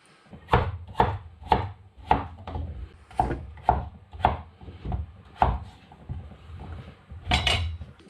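A knife chops small potatoes for chowder on a board, a steady series of sharp close thuds about twice a second with a brief pause, alone without talk.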